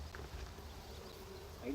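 Honeybees buzz faintly during a hive inspection a week after a captured swarm was housed in a six-frame nucleus box, a low steady hum with soft handling noises.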